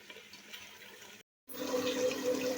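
Water poured into a pot of Ambur-style chicken biryani makes a steady splashing gush that breaks off in a short gap, then resumes with a louder, fuller rushing pour.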